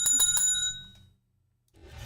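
A bright bell rings three quick times up close, its metallic tone hanging and fading into a short silence before a low voice starts speaking.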